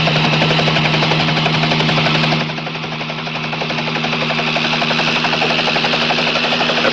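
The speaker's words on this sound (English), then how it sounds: "It's a Highway Patrol helicopter." A Highway Patrol helicopter passes overhead, its loud rotor chop and engine whine steady and close before dipping slightly and holding on as it moves, with no voices.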